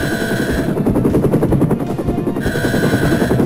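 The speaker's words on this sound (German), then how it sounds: "Jetzt ist hier auf einmal ein Hubschrauber oder was?" A helicopter at a Russian base in the video game 007 Tomorrow Never Dies makes a loud, continuous rhythmic rotor chop over a steady engine whine, close and unbroken throughout.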